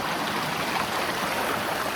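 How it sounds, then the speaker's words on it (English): River water rushes steadily during a crossing on a Pacific Crest Trail hike near Yreka, a continuous broadband stream roar, close and loud throughout with no talking. "And I'm crossing the river"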